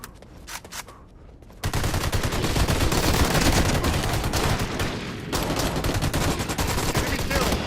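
Video game gunfire in Special Forces Team X on Xbox 360, loud sustained rapid automatic bursts filling several seconds after a brief quieter stretch, with a short gap mid-way.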